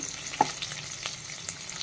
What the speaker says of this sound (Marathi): नंतर फोडणीतच थोडीशी कोथिंबीर घालायची